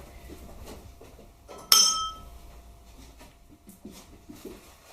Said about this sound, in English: not everybody's going to ring the bell the same